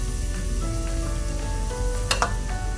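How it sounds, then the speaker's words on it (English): Onions sauteing in a pan for rava dosa give a steady, close sizzle with light stirring scrapes and a couple of brief sharper crackles near the end, with no talking. "As the onions are sauteing, we have to saute them just a little more."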